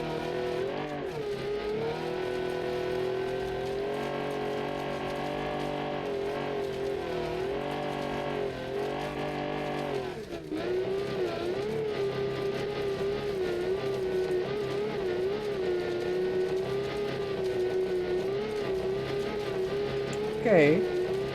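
A car engine drones steadily while driving in the Mad Max video game, a continuous heavy hum with slight rises in pitch, under ongoing talk.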